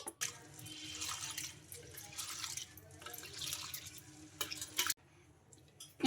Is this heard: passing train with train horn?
no